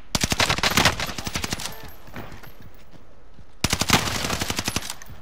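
Rapid automatic gunfire in the video game Call of Duty: Modern Warfare, with loud, tightly spaced bursts of shots, a short lull, then another sustained volley, close and dominant.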